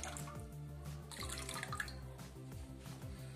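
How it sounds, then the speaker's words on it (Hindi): Water is poured into spiced jal jeera in a kitchen, a close, trickling, dripping pour that runs steadily for a few seconds. "थोड़ा सा पानी हम और डाल लेते हैं"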